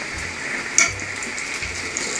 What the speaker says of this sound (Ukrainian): Пиріжки, я думаю, будуть смажитися швидко, тому що тісто пухке підійшло.